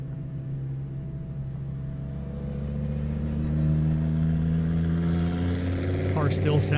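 A drag racing car at a half-mile airport drag strip rumbles with a deep, steady engine drone that swells slightly midway, with a short sharp burst near the end.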